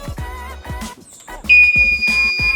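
A Danfoss ammonia level control sounds its low-level alarm as the level drops below 15%, a steady high-pitched electronic tone that starts partway through and holds on beneath ongoing speech.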